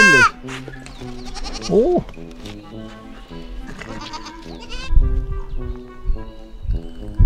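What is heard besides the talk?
goats bleating in a wildlife park petting enclosure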